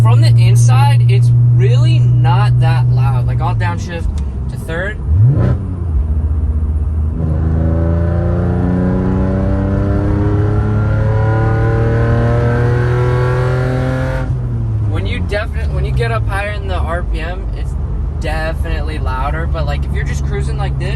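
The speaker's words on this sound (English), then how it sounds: "Like, I'll downshift to third." A BMW E46 with aftermarket headers downshifts to third gear; the engine drops in pitch and then rises steadily as the car pulls forward, with a loud, continuous exhaust drone.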